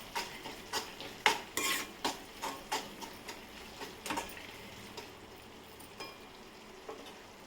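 A spoon stirs a tomato mixture in a pan for a village-style prawn dish, scraping in a steady rhythm of short clinks over a gentle sizzle that slows and fades toward the end.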